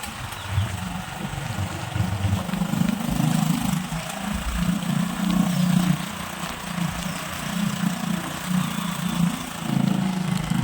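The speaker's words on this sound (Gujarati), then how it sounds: "આવા વરસાદમાં પણ જે આનંદ છે, જે મજા છે બાઇક રાઇડિંગમાં" A motorbike rides through heavy rain on a country tour, its engine a low pulsing drone that rises and falls throughout, with rain hiss over it and no talk.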